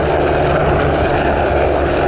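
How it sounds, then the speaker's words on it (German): NH90 medevac helicopter lifting off with a Tiger attack helicopter escorting it at a special forces demonstration, a steady loud roar of rotor and turbine engine noise with no talking. "the medevac is now lifted off and the Tiger is escorting him safely from the area"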